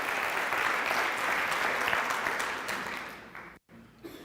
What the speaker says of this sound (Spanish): Un fuerte aplauso para el señor Holton.